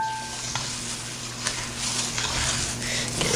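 Thick stove top cookie mixture being stirred in a pot as oats are blended in with vanilla, a steady soft scraping and churning with a faint sizzle, close up and continuous, no talking.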